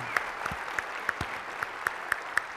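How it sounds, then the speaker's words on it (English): Audience applause at the EmberConf 2016 opening keynote, a conference crowd clapping steadily with a few sharper individual claps standing out, moderately distant and fairly soft, with no talking over it. "So let's give them a big round of applause."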